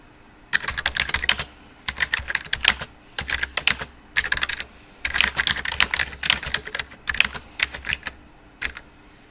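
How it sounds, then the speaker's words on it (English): Someone types a sentence on a computer keyboard: quick, close clusters of key clicks in uneven bursts separated by brief pauses between words. "Let's try writing a whole sentence."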